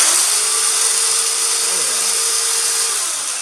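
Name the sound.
chainsaw revving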